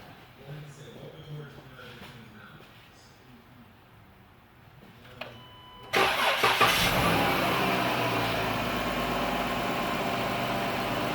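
A Pentastar engine cranks briefly and fires up, jumping from near silence to a loud, steady idle that continues close by.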